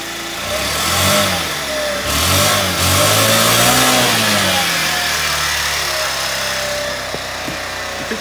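A Spoon Sport scooter engine, freshly reworked carburetor, is throttled from idle into loud, rising revs in several bursts before settling back to a steady idle close by.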